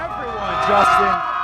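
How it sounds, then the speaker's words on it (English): A rowdy football crowd fills Lambeau Field for a Packers game, a dense roar of cheers and whoops that swells briefly, with a voice talking over it. "The crowd's rowdy"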